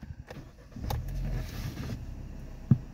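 A manual-transmission car's engine, just started, settles into a low, steady idle rumble close by, with a brief sharp click near the end.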